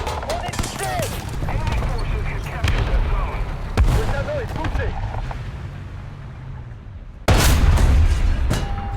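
Tank cannon fire and incoming shots in a War Thunder battle with French AMX-50 tanks, several heavy booms and cracks spread unevenly, one very loud blast near the end, over a continuous engine rumble and a player's talk.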